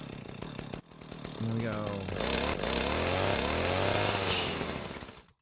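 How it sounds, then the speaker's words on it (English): A chainsaw cuts wood, its engine running with a steady harmonic drone that swells and holds for several seconds while someone talks over it. "we bust out our chainsaw"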